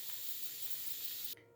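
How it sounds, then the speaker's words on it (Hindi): Steam vents from a pressure cooker as it is opened after cooking mutton qurma at home, a steady loud hiss that stops abruptly near the end. "और अब हम कुकर को खोल रहे हैं।"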